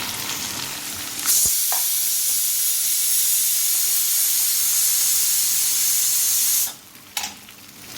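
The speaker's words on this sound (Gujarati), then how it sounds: "મેથીને આદુ બધું શેકાઈ ગયું છે. હવે આપણે નાખી દઈએ ભીંડા" Okra dropped into hot oil with fenugreek and ginger, bursting into a loud, close sizzle that holds steady for several seconds, then cuts off sharply to quieter frying and a clink.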